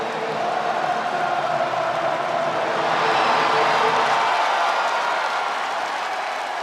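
A virtual arena crowd in the WWE 2K25 wrestling video game roars and cheers continuously as a wrestler makes his entrance, a dense steady wash of crowd noise that swells slightly midway.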